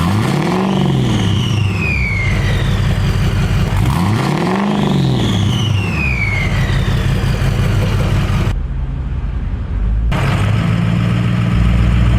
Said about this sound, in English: we're just revving it up in neutral or in park